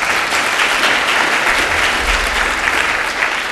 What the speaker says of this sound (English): let's give Ernest a round of applause